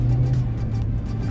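A Toyota Prius hybrid car accelerates in sport mode, giving a steady, fairly loud low engine hum with a faint whirring, heard alone.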